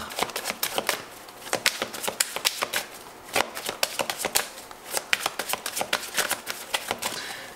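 Tarot cards riffled and shuffled by hand, a close, crisp run of rapid flutters and slaps repeating in quick bursts with no voice over them.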